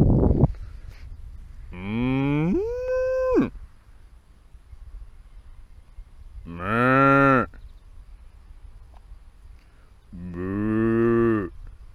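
Cows on a permaculture vegetable farm moo three times, each a long, loud, close call separated by quiet pauses, with no talking.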